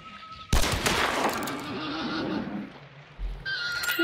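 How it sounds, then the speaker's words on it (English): A horse whinnies loudly and close by in the game Hunt: Showdown, a sharp drawn-out neigh followed by snorting, with a brief thud and more movement noise near the end. "No, horsey, be quiet."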